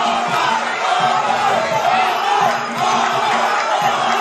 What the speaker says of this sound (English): the crowd is erupting right now as we go into round 5 here.